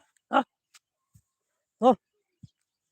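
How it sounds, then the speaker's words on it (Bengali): Two sharp barks from a dog a short distance away in rural wetland rice fields in Bangladesh, spaced about a second and a half apart, with small faint noises in between. "কুকুর আসতেছে আমার ডগিকে মারার জন্য"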